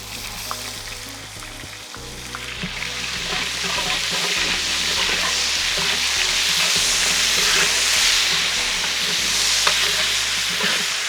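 Onions sizzling in hot oil for a Mughlai mutton curry, a steady loud frying crackle with stirring throughout, alone with no talk and a low steady hum beneath.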